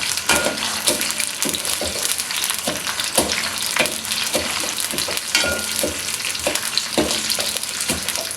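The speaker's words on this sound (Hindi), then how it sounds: "अब चावल को करेंगे फ्राई जब तक ये लाइट ब्राउन हो जाएंगे।" Rice frying in a pan over a medium-low flame until light brown, a dense continuous crackling sizzle with regular scraping strokes from stirring.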